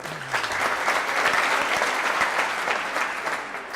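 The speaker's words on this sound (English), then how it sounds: "And wait for this round of applause here." Crowd applause ringing out at the All-Ireland Ladies Senior 40x20 handball final, a steady, dense round of clapping sustained throughout at moderate loudness with no talk over it.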